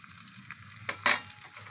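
Kashmiri chili powder drops into a hot dal tarka, giving a soft sizzle and a brief burst of frying crackle against a quiet kitchen background.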